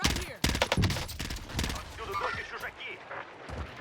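Rapid bursts of gunfire in the video game Warzone, including M16 and FFAR loadout weapons, crackle in clustered volleys through the clip, with team voice chat talking over and between the shots.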